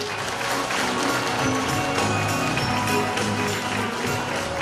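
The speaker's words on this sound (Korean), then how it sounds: "여러분 환영의 박수로 맞이해주시면 대단히 고맙겠습니다" An audience at a regional economic forum in Gumi, Gyeongbuk, applauds to welcome arriving guests. The clapping is dense, loud and continuous, forming a steady wash of noise with no voices standing out.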